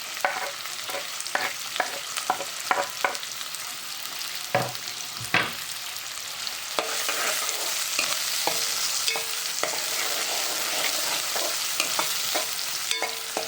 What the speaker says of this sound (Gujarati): હવે લીલી ડુંગળી ને સૂકેલી ડુંગળી પહેલાં એડ કરવાની છે.